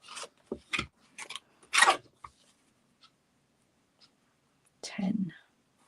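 Scissors snip at craft material for a toadstool project in a few short, close cuts and rasps, followed by a pause and a final trim, with soft whispered sounds nearby.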